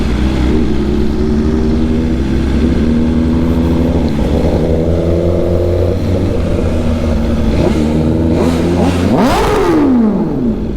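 A BMW S1000RR M Sport motorcycle engine drones loudly and continuously up close, its pitch rising and falling through gear changes with a sharp rev climb near the end.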